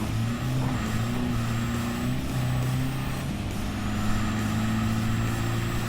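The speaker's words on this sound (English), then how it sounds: "Still can't get enough of that engine." A Jeep engine running laps on a track, with a steady, loud rumbling drone that shifts pitch once midway as the gear changes, continuous throughout with no voices.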